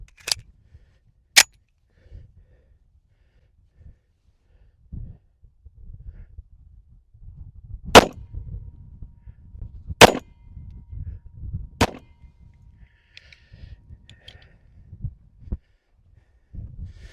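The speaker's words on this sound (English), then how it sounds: "We're gonna fire 3 shots at that target" A Springfield Armory Ronin 10mm 1911 pistol firing at a target seven yards away: several sharp, loud single shots spaced unevenly, with quiet handling noise and rustling between them.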